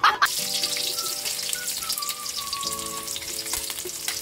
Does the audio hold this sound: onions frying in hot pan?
yes